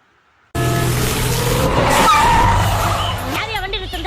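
A vehicle skids hard to a stop with loud tire squeal that rises mid-clip, then voices and noisy activity follow right after.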